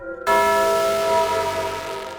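A church bell in a bell tower strikes once, then rings out loud and sustained with a long shimmering decay.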